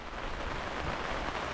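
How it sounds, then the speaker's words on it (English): Steady rain falls in a remote African village, a dense, even hiss of drops with no pauses and no voices. "Let it rain."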